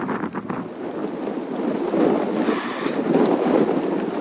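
Strong, gusty wind buffets the microphone on an exposed Shetland Islands hiking trail, a continuous loud roar and rumble that swells and surges throughout with no voices.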